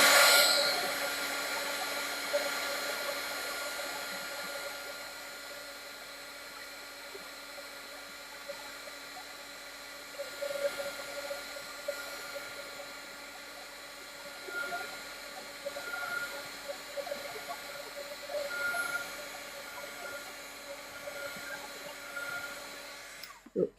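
A hair dryer blows steadily on wet paint for an extended stretch, a constant close whooshing hum with slight fluctuations as it is moved around.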